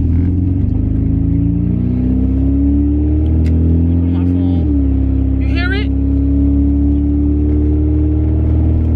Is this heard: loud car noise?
yes